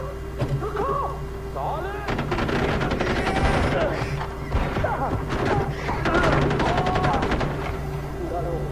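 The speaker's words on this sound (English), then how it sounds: "don't be shooting at me" Gunfire in the video game Far Cry 4, with bursts of rapid shots and impacts that swell and fade over several seconds. Game chatter and voices are mixed in with the firing.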